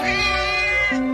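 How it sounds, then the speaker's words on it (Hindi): A cartoon cat lets out a long, drawn-out crying meow with a wavering, nasal tone, loud and close, sustained for about a second before its pitch drops at the end, with no talking over it. "देखो ये बिल्ली रो भी रही है"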